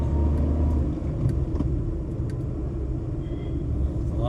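A vehicle on a village road gives off a continuous low engine rumble that stays close and fairly loud, with faint clicks and higher noises scattered over it.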